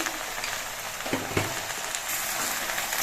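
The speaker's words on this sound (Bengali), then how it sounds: "কচু পাতাগুলো ভাজার সময় আমি পরিমাণ মতো নুন দিয়ে দিচ্ছি" Taro leaves fry in mustard oil with a steady, moderate sizzle close by, broken by a couple of brief scraping stirs partway through.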